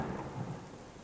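A thunderstorm with steady rain, a low rumble of thunder rolling under the hiss of falling drops, brief and fairly soft with no voices.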